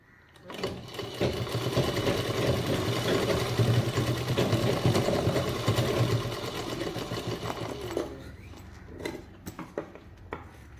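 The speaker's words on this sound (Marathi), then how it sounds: "तर ह्याला इथून शिलाई मारून घ्यायची, म्हणजे अस्तर लागला जाईल।" A sewing machine stitches the lining of a double-zip purse, a loud, fast mechanical whirr running steadily for about seven seconds after a brief start, then stopping, followed by a few faint clicks and handling noises.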